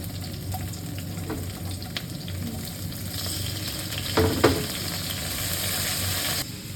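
Chopped onions sauté in a pan for a Filipino vegetable dish, making a steady close sizzle with a few clinks of a utensil partway through.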